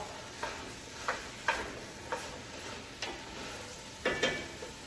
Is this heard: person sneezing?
no